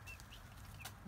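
Chickens clucking outdoors around their coop, a steady close chorus of short calls and squawks running through the whole moment.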